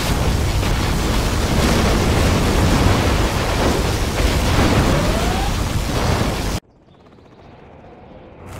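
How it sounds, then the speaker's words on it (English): A particle cannon superweapon fires in the Command & Conquer Generals Zero Hour video game, making a loud, sustained roaring blast like thunder for about six seconds before cutting off abruptly into quiet game ambience. "Particle cannon activated."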